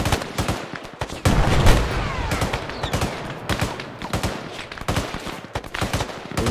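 Rapid bursts of gunfire crackle in quick, uneven volleys in the video game Arma 3, some shots louder and closer, with brief pauses between strings of fire.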